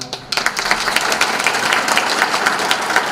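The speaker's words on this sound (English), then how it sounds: "Just give it a showering round of applause." An audience at an international TVET conference breaks into a loud round of applause, close and sustained, with scattered distinct claps merging into a continuous patter.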